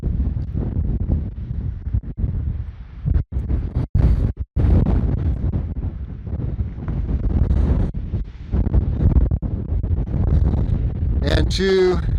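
Heavy wind on the summit of Windy Peak in Nevada's Rainbow Mountain Wilderness buffets the microphone in a constant low roar, with gusty rumbling and brief dropouts throughout.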